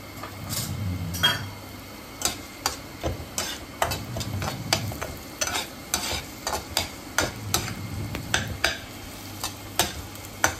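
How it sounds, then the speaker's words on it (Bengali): Onions fry in hot oil with a soft, continuous sizzle, punctuated by frequent rhythmic clicks and taps of a spatula stirring against the pan, close and without any talking. "তেলটা গরম হয়ে গেছে, তেলের মধ্যে আমি দিয়ে দিলাম পেঁয়াজ"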